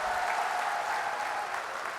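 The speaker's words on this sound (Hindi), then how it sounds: "तो जोरदार ताली हमारे उम्मीदवार करण सिंह जी के लिए बजा दो एक बार" A crowd at a Congress political rally in Jodhpur's Umaid Stadium applauds a candidate. The clapping is dense and sustained, loud and continuous throughout.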